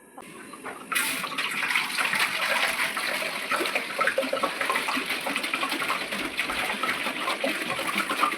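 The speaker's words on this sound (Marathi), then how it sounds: "मग आता ओतणार आहे पाणी आपलं." Water gushes steadily into a large cooking pot on a gas stove, beginning abruptly after a brief quiet moment and continuing as a dense, splashing pour with no talking.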